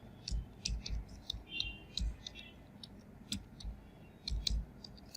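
Keyboard keys clicking in short irregular bursts while CSS code is typed for an HTML homepage, quiet and close, with brief pauses between clusters of keystrokes.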